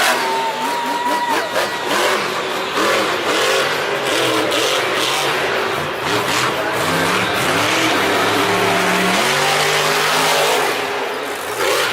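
Monster trucks at a Monster Jam arena in Nashville roar with loud, continuous engine revving that rises and falls through hits and big-air jumps, with a crowd-filled arena backdrop.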